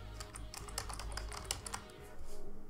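Text is typed on a computer keyboard in quick irregular bursts of close, crisp key clicks, then a short pause, with no voices.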